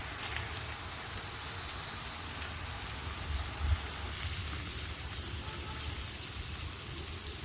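Flat beans (chikkudukaya) fry in a pan with a soft, continuous crackle and sizzle that swells into a brighter, hissier sizzle partway through; no one speaks.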